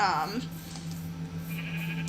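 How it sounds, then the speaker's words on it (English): Two Minecraft sheep bleat together at the start of the clip, loud and close, fading into ambient game sound with a steady low hum underneath. "it was just like two sheep together"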